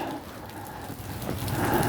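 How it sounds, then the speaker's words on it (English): Cold rain mixed with sleet falling outdoors in freezing weather, a steady dense patter with no pauses that grows slightly louder toward the end. "and we're getting more rain"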